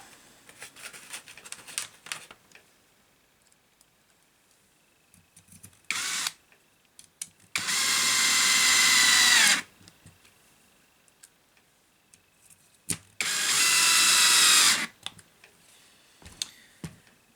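A 3/8 ratchet tightens the mounting screws on a Carten T410R lathe, heard as two loud, dense bursts of rapid ratcheting of about two seconds each, close up, amid scattered clicks and handling noises.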